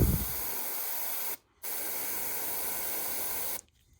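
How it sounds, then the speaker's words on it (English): An airbrush sprays blue paint onto a miniature figure in short, close bursts of steady hiss, cutting off briefly and then resuming before stopping. "obviously you're going to get a little bit of overspray working with an airbrush"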